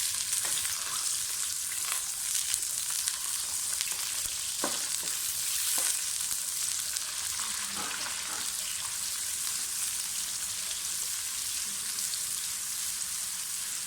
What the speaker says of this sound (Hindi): प्याज को ब्राउन कर लें।